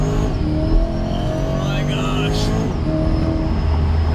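A supercharged Chevrolet Corvette with a ProCharger accelerating on a highway, its engine droning loud and close with a steady rising tone over continuous road and wind noise.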